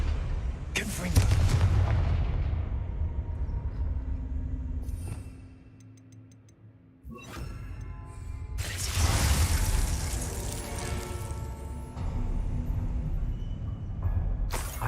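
A Confringo blasting-spell explosion in Hogwarts Legacy, a loud booming blast with crackling debris and mechanical rattling, fading and then swelling again into another heavy rumbling burst.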